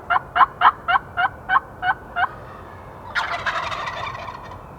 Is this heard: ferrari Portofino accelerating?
no